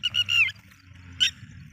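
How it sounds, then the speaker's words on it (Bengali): By the Damodar river under an overcast sky, a few sharp nasal bird calls sound in two short bursts, close and clear over a faint low background hum. "পাখি আওয়াজ আছে"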